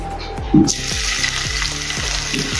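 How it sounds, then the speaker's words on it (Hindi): Steady crackling sizzle of ginger-garlic paste hitting hot oil for dhaba-style palak paneer, loud and continuous after a brief splash, with occasional soft stirring clinks underneath. "अभी तेल गरम हो गया है। अभी इसमें हम अदरक लहसुन की पेस्ट डालेंगे"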